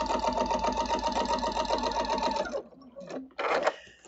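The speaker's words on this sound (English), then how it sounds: "So I'm just going to continue quilting." A sewing machine runs steadily while quilting a Thanksgiving hot pad, its rapid rhythmic stitching close and loud before cutting off, followed by a few brief handling clatters.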